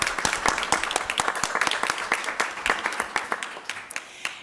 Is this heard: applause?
yes